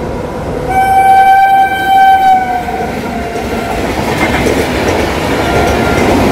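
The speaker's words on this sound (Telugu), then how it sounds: "LTT Visakhapatnam express." LTT Visakhapatnam Express rushing past near Medapadu, opening with a long loud horn blast, then a roaring rumble of wheels and carriages that carries on steadily, close by and with no voices.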